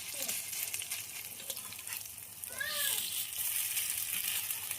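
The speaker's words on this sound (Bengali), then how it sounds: "আমার এক পাশ কিন্তু ভাজা হয়ে গেছে, এখন এগুলা উল্টাই দেবো আমি" Lentil and onion fritters fry in hot oil with a steady close crackling sizzle, brief stirring sounds and a faint cat meow in the background.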